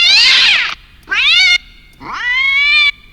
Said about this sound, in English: you can see I have about 7 different sound effects of cats